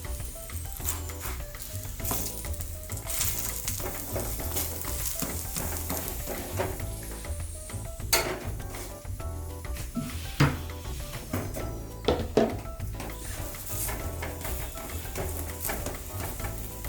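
A stuffed onion paratha sizzles steadily as it is pressed while cooking, with a continuous frying hiss and occasional sharper clinks and scrapes of utensils against the pan.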